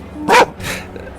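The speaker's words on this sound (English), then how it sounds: "My dog." A boxer dog gives one sharp close bark followed by a softer second yelp, loud and alone with no talk over it.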